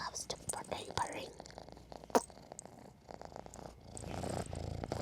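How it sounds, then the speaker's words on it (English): A pet cat purring softly at close range, a low continuous rumble beneath a woman's whispered, cooing speech. "Who's purring currently"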